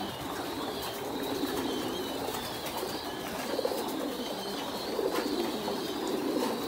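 Pigeons feeding at troughs after a dewormer mixed with water was added to their feed, giving a steady low cooing murmur with occasional soft wing flutters, close and continuous without talk.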